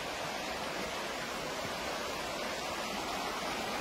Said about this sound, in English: into that lovely sound of the river flowing